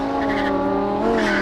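A Lamborghini Huracan, tuned to sound like a race car, accelerates hard with a loud, close engine roar whose harmonics climb steadily in pitch through a brief burst.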